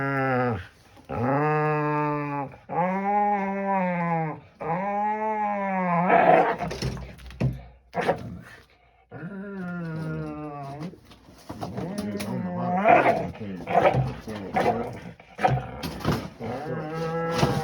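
A dog named Dinka vocalizes loudly and close up in a long run of drawn-out, whining growls and barks, rising and falling in pitch, with short gaps between them.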